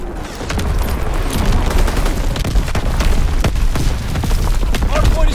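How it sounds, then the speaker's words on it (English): Division artillery barrage in a video game on the Gibraltar map during a Hardpoint match: a dense, continuous roll of booming blasts and crackling fire, loud and sustained throughout. "Hard point location confirmed. Firing division artillery."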